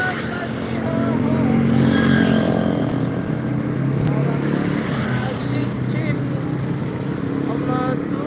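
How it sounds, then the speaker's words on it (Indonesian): A car and then a bus pass along an Indonesian road: a steady engine rumble and road noise swell and fade nearby while people talk over it. "Ah, ada mobil lagi nah, bus ah."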